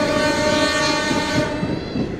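A passenger train rolls along carrying students on a school trip in Uganda, a steady close rumble of carriages with a sustained horn-like tone running through it, loud and continuous with no talk.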